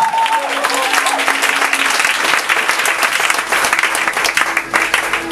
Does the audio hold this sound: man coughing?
no